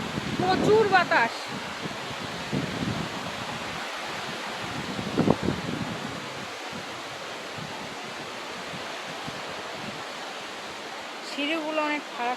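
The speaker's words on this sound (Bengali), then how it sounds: "প্রচুর বাতাস।" Strong wind gusting beside a waterfall in Shillong, Meghalaya, a steady loud rushing roar filling the whole clip, with brief voices near the start and end.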